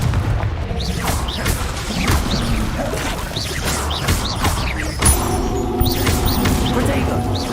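Confringo spell explosions in Hogwarts Legacy crash and boom repeatedly over a dense layer of game effects, with thuds, whooshes and a constant low rumble filling the mix.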